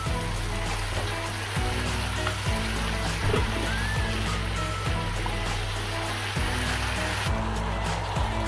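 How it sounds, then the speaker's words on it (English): Washed sheep meat tossed in with frying onion for a curry fills the pot with a dense, steady sizzling hiss, punctuated by soft periodic knocks, with no voices. "Now I'm going to add the meat with the onion."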